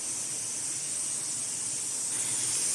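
Cut broad beans go into a pan of sautéed onions, giving a steady, close sizzling hiss that runs evenly throughout and lifts slightly toward the end, with no talking.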